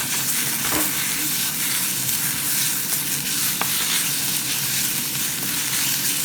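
Onion frying with ginger garlic paste makes a loud, constant sizzle, with scraping and stirring noises breaking in now and then; no one speaks.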